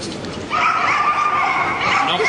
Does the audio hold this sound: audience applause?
no